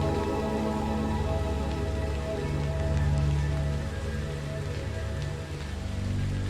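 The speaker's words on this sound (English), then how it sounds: "Feel the soft vibrations of the raindrops as they land on leaves, grass, and the ground" Steady rain patters on leaves, grass and ground, an even dense hiss of countless drops with no pauses, close and moderately soft.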